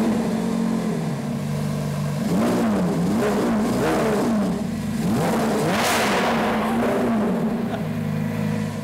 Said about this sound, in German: Starten wir einmal den Motor.